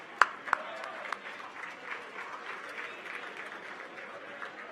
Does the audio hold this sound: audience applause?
yes